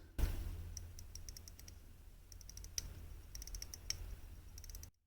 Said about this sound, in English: The hand winding, I'm hoping maybe you guys can hear it.